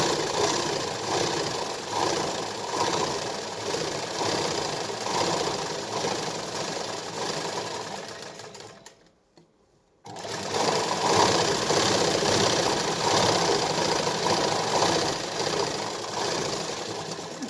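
A sewing machine runs steadily while stitching the shoulder seam of a katori blouse, a loud continuous whirring hum that breaks off briefly near the middle before resuming at full speed.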